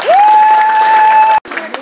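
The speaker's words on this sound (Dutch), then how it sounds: "Ik vind het echt een applaus waard" Audience applause at a children's singing audition, a loud burst of crowd clapping and cheering with a sustained tone over it, cutting off abruptly and then returning more faintly.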